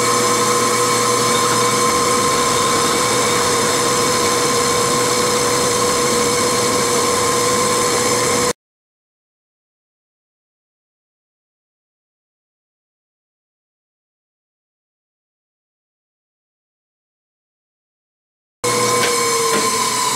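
A metal lathe faces off steel stock for die stock handles, a steady loud motor and cutting drone running throughout, with a long stretch of total silence in the middle before the machining resumes.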